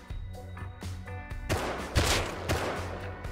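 Rapid gunfire fills a survival video game match on a 1000x server, with dense bursts of loud, sharp shots in quick succession and a few heavier blasts, with no talking.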